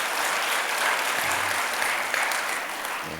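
At a church worship service, a congregation claps loudly and steadily throughout, a dense wash of applause that fades slightly toward the end.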